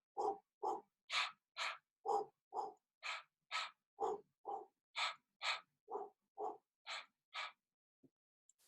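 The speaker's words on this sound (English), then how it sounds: "that's a very grounding breath" Rhythmic breathing from a grounding breath exercise, mostly through the mouth: about nineteen quick, forceful inhales and exhales in a steady, even pattern, close and alone.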